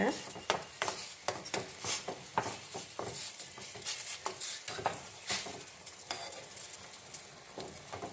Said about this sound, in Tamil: ஒரு கிளறி கிளறி விட்டுருலாங்க